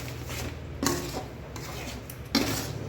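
A spoon scraping and clinking against a pan while flour is stirred into hot ghee for sukhdi, two sharper metallic knocks standing out over a quiet, steady background, with no talking.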